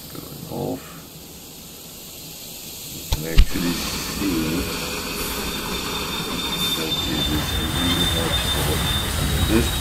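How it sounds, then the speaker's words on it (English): A train in the video game Railway Empire 2 rolls along its rails with a continuous rumble and high wheel squeal, a sharp clank partway through, while someone talks over it. "So why is the train is just going off?"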